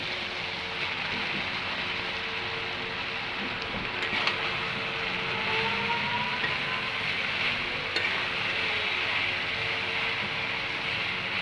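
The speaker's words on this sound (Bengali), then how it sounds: "আমার চিংড়ি মাছগুলি ভাজা হয়ে গেছে এখন আমি শাকগুলি অ্যাড করে দিচ্ছি" Jute greens tossed into a pan with fried shrimp, a continuous close sizzle and hiss with occasional stirring scrapes and clinks against the pan.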